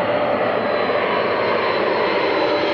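Aircraft arriving at Krainiy airfield at Baikonur with a satellite aboard, a loud steady engine roar with a faint whine held throughout, close and continuous with no voices.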